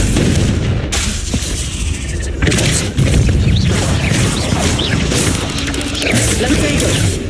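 Confringo blasting-spell explosions in the Hogwarts Legacy video game, loud continuous booming and crashing blasts layered over a dense game soundscape.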